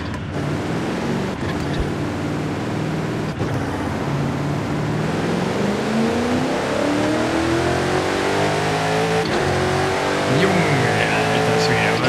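A turbocharged Hyundai Elantra in Forza Horizon 5 revs hard and accelerates, the engine note climbing and shifting through gears, with a brief tire squeal, loud and continuous.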